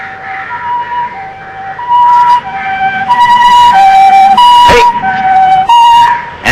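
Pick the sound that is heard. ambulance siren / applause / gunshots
ambulance siren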